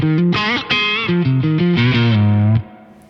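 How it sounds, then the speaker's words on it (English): Electric guitar through overdrive with spring reverb added plays a loud, distorted melodic phrase of several quick notes ending on a held low note, then a short reverberant tail fades out after it stops. "Right, let's throw on some spring reverb."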